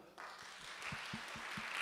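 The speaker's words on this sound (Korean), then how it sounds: "우리 임원들한테 다시 한번 좀 격려의 박수 할까요?" Applause of encouragement for the church youth group officers at a young adults' service, a steady wash of clapping from a gathered congregation with faint low thumps underneath.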